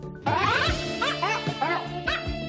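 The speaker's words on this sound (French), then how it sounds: "Un chien qui joue des percussions" A dog playing percussion, with short yips and barks mixed with rhythmic tonal hits and ringing notes, close and moderately loud over a few seconds.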